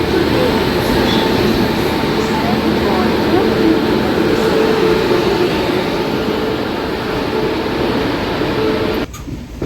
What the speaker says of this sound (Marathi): 226660 कोचुवेली स्पेशल एक्सप्रेस प्लेटफॉर्म क्रमांक 7 पर आ चुकी है